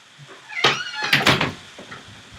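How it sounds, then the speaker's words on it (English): An indoor door is swung shut. A brief creak leads into a couple of solid knocks and a latch-like clatter near the middle, then the room goes quiet again. "And let me shut my door"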